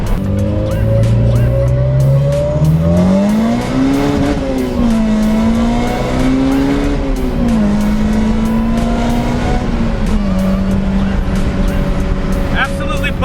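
A supercharged Honda Civic Type R EK accelerates hard in loud, close engine pulls. The pitch climbs and dips between gear changes, with faint tire noise underneath.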